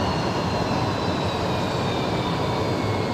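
A corporate jet's engines run down at Brisbane Airport, a steady, broad, distant turbine roar with a faint high whine, heard alone without talk.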